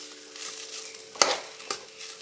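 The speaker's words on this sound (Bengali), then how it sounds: "এইভাবে চালটা খুব ভালো করে ভেজে নিতে হবে।" Rice fries in a pan for white pulao with a low, steady sizzle, broken by two sharp scraping clinks of a stirring spoon, close and alone.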